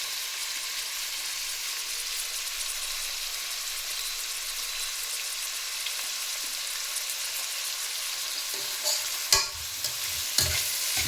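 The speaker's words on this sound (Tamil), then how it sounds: "வெங்காயம் நல்லா வதக்கி ஃபைன். இது வதங்கட்டும்." Onions sauteing for chicken biryani hiss in a strong, steady, bright sizzle that runs throughout, with a few utensil knocks and stirring scrapes near the end.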